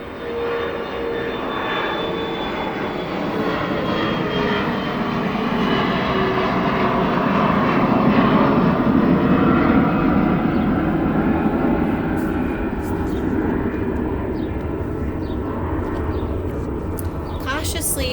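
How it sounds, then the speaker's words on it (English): A steady, loud engine drone of an aircraft passing overhead fills the whole stretch, swelling slightly in the middle, with a voice faintly present beneath it. "We're going to wait for the airplane."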